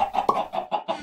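Minecraft chickens clucking, a quick run of five or six short, nasal clucks in an uneven rhythm, close and clear with nothing else under them.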